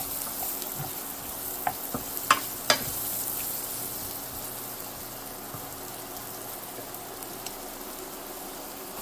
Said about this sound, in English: Stir them around so they get coated in the oil.